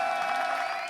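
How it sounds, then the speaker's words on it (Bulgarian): Wedding guests clap and cheer together in a dense, continuous wash of applause under a steady musical tone at a celebration. "Аплодисменти."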